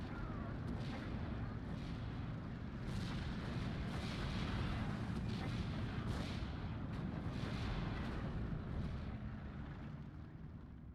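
An off-map artillery barrage pounds the battlefield in a competitive WW2 real-time strategy game, a dense, continuous rumble of overlapping blasts and booms rolling on at moderate volume with no break, heard without talking.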